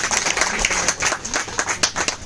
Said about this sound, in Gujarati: રીનાબેન કલાલ અને જયદેવી આચાર્ય સાહેબ માટે જોરદાર તાળી દઈએ.